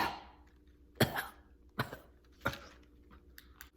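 A voice imitates a small, cat-like cough in three short bursts, each followed by a fainter trailing sound. They are close and fairly quiet, with light clicks near the end.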